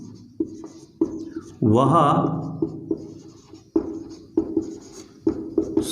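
Chalk tapping and scratching on a classroom board in short strokes and bursts, with a man lecturing in Hindi over and between the marks.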